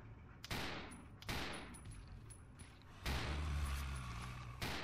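Gunfire in the video game Resident Evil 0 HD comes as several sharp, loud shots spaced irregularly, each trailing into a ringing decay, with a low mechanical rumble beneath.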